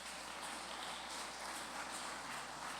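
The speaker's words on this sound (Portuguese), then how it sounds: "As palmas para o Senhor." Applause from a church congregation during an evangelical sermon, a steady wash of many hands clapping at once, held at an even level the whole time with no voices standing out.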